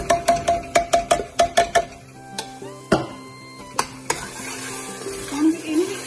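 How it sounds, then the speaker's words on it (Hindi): A spoon clanks rapidly against a pan a dozen times, then tomato puree with turmeric sizzles while being stirred, scattered clinks and soft bubbling over steady frying, for Punjabi goat meat. "आपां इहदे च पा देंगे टमाटो दी प्यूरी, मैं पीस ली है, ग्राइंडर दे विच पा देंगे सारी"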